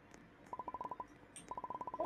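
Touch-tone phone dialing inside a Roblox snow lodge game: two quick bursts of about eight beeping key tones each, with a short pause between them, clear and close against quiet background noise.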